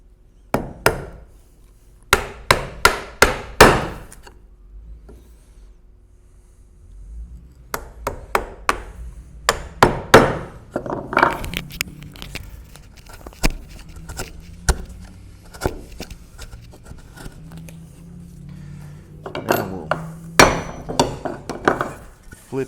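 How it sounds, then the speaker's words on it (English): A chisel is struck with a mallet, chopping down to a line in wood on a Moravian workbench: sharp, loud blows come in quick clusters separated by pauses, with softer scraping and handling sounds in between. "take your chisel and chisel on down to your line"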